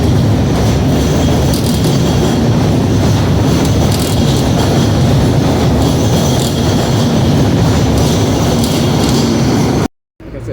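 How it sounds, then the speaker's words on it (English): A train rumbles on the elevated tracks above the Auditorium Theater in Chicago, a loud continuous roar of rattling wheels and metallic squeal heard from below, with someone talking over it before it cuts out abruptly near the end. "train overhead."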